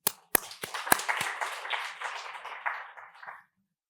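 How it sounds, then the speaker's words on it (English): A few sharp, separate claps start things off, then the audience breaks into full clapping to welcome IIT Delhi's Chief Medical Officer at a campus health talk. The clapping thins and fades out after about three seconds. "please welcome her and join me in the warm round of applause"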